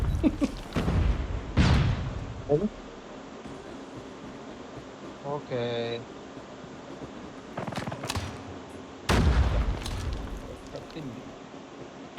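Gunfire and explosions from the Call of Duty Mobile video game: sharp loud bursts and booms at intervals, with a brief buzzing tone midway, mixed with excited talking.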